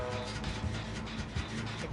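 A loud train roars through a Dead by Daylight match, a steady dense rumble with a humming mechanical drone filling the short stretch, with no talk.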